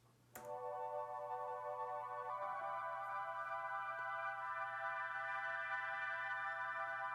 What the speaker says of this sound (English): You know, just like a generic pad sound.